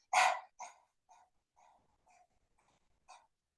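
A person imitates a small dog panting in quick Kapalabhati-style breaths: one strong huff, then a run of short, fading bursts spaced at uneven intervals, close and otherwise quiet.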